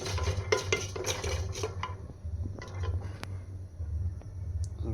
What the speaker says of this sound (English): we are roasting the jeera without any oil